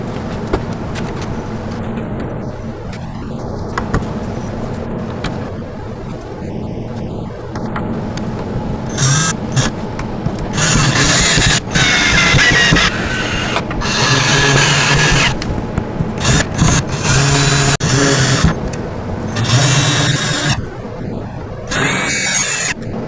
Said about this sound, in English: So let's get this the bottom rails and the slatted rails screwed into that end panel.